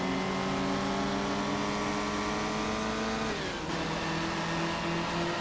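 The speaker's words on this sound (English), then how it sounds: "Downshifting, and you see how laborious bringing these cars to a stop can be" A 1958 Formula 1 race car at the Italian Grand Prix, engine drone holding steady, then dropping in pitch as it downshifts under braking, loud and continuous throughout.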